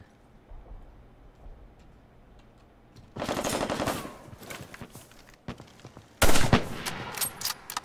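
Gunfire in a competitive video game match in a hospital hallway: a loud rapid burst midway, then a second sharp, heavy volley, over quiet game ambience.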